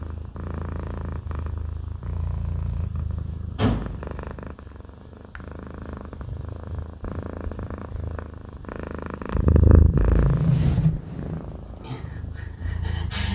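A cat purrs steadily up close to a microphone, a low continuous rumble with soft breathing, one sharp bump near the start and a louder surge of purring and rustle later on.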